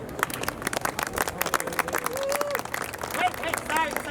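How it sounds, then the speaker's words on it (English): A street performance crowd in Prague claps together on a count of three, giving a burst of scattered hand claps and applause, while voices talk and call out over it. "Everybody, on 3, everybody clap."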